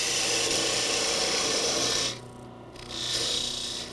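Skew chisel parting cut on a spinning wood blank for a Christmas ornament on a wood lathe: a steady, close rasping cut with a low motor hum, a brief drop partway through, then the scraping resumes.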